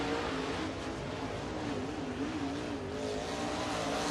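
A race car runs a timed lap at Lake Cumberland Speedway in Burnside, Kentucky, its engine a faint, distant drone that rises and falls slightly in pitch and continues unbroken with no voices.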